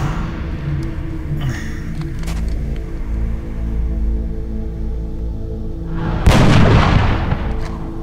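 A burst of gunfire from XCOM: Enemy Unknown, a single sharp report booming out near the end over a steady low game rumble and ambient hum.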